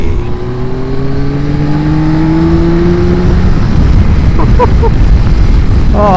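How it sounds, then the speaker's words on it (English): A Yamaha Tracer 9 GT+ motorcycle engine pulls hard under acceleration, its rising drone climbing steadily through the gears over loud, close wind rush. "Oh, this engine is just superb."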